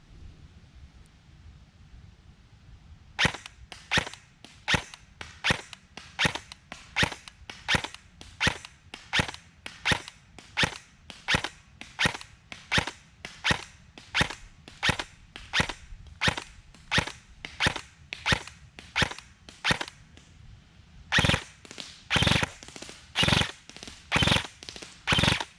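A VFC HK416A5 airsoft rifle fires .25 gram BBs outdoors at a 100-foot range, giving a long string of evenly spaced sharp cracks, then a quicker, louder burst of shots near the end, with no talking.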